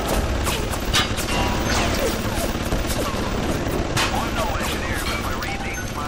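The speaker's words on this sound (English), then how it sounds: "my gun turrets calm down and stop shooting me" Gun turrets in the Bioshock video game fire a continuous rattling stream of shots mixed with mechanical clanks and impacts, loud and dense throughout.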